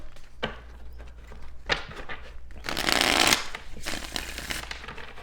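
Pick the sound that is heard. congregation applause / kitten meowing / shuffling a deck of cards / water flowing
shuffling a deck of cards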